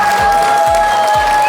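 Guests at a celebration clap for Gevorg's 30th birthday, continuous loud crowd applause over a bright sustained musical tone and rhythmic low beats.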